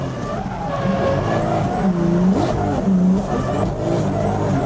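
A 600 hp Toyota Mark II drift car screams along a Japanese mountain touge road, its engine revving high with rising and falling pitch sweeps as it shifts and slides, loud and close from onboard.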